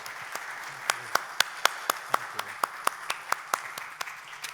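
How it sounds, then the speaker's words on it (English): An audience claps after a panel discussion on AI investment, sparse individual claps ringing out in a fairly regular series rather than a full roar, moderately close in a quiet hall. "Please, everybody, give them a warm applause."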